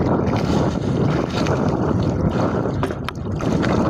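Steady wind buffeting a small fishing boat out at sea, a loud, continuous rushing roar with microphone gusts and no break, no voices over it.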